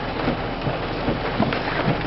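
Rain falls steadily on a flooded lake shore at Rainy Lake, a close, moderately loud patter with soft irregular drips and splashes over a constant hiss.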